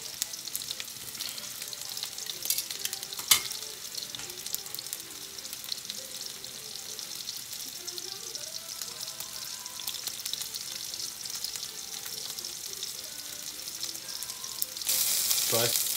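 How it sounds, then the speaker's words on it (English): A pork chop sizzles steadily in hot oil in a pan, a dense continuous crackle with occasional sharper pops and faint clinks, no voices. "you want that sound, you want that sizzling sound"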